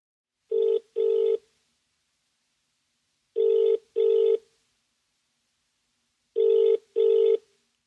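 A telephone rings in three evenly spaced double-rings, each pair a clean electronic burble separated by silence, loud and close with no voices.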